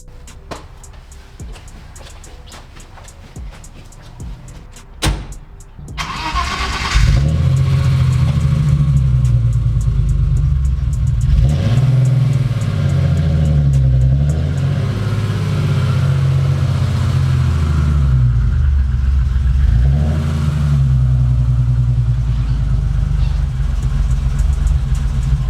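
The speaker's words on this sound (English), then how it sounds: "when the car started up" A BMW E30's engine cranks and catches, then settles into a loud low rumble with several revs rising and falling, close by.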